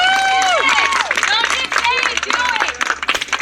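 A protest crowd cheers and whoops over a steady hubbub, with rising and falling shouts overlapping, loud and close throughout.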